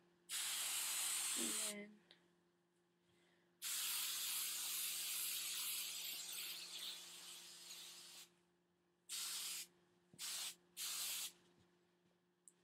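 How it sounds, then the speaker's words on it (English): Hairspray sprayed onto scrunched hair in long hissing bursts, one sustained for several seconds, then three short quick puffs, close and loud, with a brief spoken phrase between sprays. "just gonna add hairspray"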